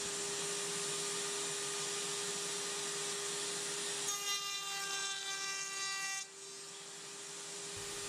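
A router cuts a dovetail across a wooden test piece held on edge against a backup block, a steady high whine with tonal harmonics swelling for about two seconds mid-clip before dropping away, over a constant motor hum.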